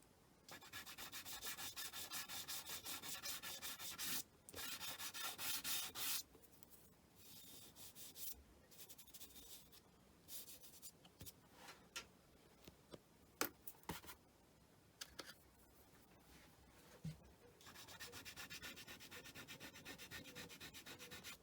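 Pastel stick rubbed back and forth over paper while layering colour around rusty edges, a close, steady scratchy rubbing in long strokes broken by brief pauses and a few light taps.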